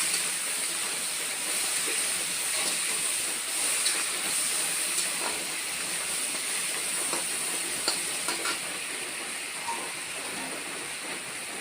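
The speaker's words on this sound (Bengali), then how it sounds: "রসুন আদা আর পেঁয়াজ দিয়ে আমি এখন কষিয়ে নিচ্ছি" Garlic, ginger and onion sautéing in a pan for ghugni, a continuous loud sizzling hiss throughout with faint scattered clicks of stirring, close and with no talk.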